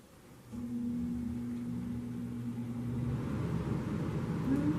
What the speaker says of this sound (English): Air conditioning.